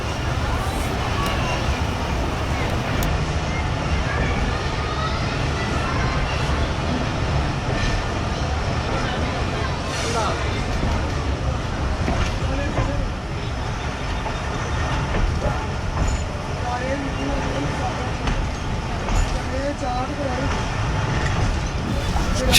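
Moving passenger train near Shaheenabad Junction, a continuous loud rumble with rhythmic rail clatter heard from on board, with someone talking throughout.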